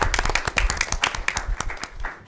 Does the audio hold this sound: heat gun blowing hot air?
no